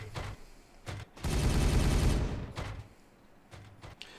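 A burst of gunfire from the video game Warhammer 40k Regicide: a few short sharp shots, then a loud sustained volley of about a second and a half, followed by scattered fainter pops.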